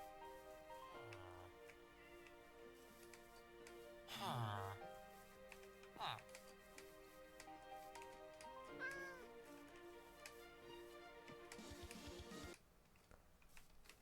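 Minecraft village cats meowing several times, short rising and falling mews spaced through the scene over quiet game sounds.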